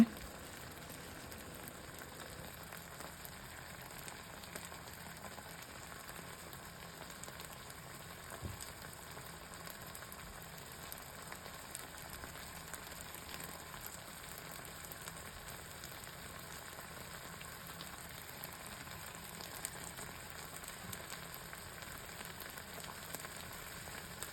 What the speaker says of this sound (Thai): ผัดส่วนผสมให้เข้ากันนะคะ